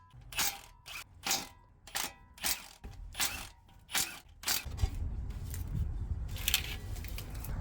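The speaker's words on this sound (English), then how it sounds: "Got 6 14mm bolts to remove this flex plate." A ratchet wrench turns 14mm bolts off the flex plate of a GMT400 truck during a transmission swap, giving about eight sharp, close ratcheting bursts in a regular rhythm, followed by a rustling, clattering stretch of handling.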